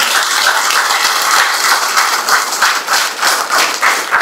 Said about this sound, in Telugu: ఇంత గొప్ప ధ్యానాన్ని అందించిన పత్రిజీ గారికి ఒకసారి గట్టిగా చప్పట్లు కొట్టుకుందాం.